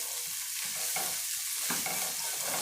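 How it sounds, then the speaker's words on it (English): Garlic and ginger fry in a pan for chicken curry sauce, giving a close, even sizzling hiss with a few soft stirring scrapes and bumps over a few seconds, no voices. "I'm going to fry for 2 minutes"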